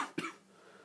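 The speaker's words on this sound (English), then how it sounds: "Cameraman cough." A single short, soft cough close to the mic, followed by quiet room tone.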